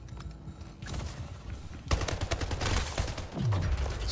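Rapid bursts of gunfire from the arena shooter Splitgate, several volleys of shots cracking close and loud in quick succession, with a brief low swoosh near the end.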